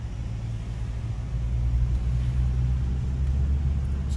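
A Toyota TRD Tundra pickup rolls past on a boulevard in Fort Lauderdale, its low engine rumble steady and moderately close, with a little street ambience behind it.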